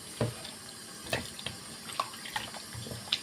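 Water running from a kitchen tap into a sink to soften frozen meat, with irregular splashes and drips heard up close, no voices.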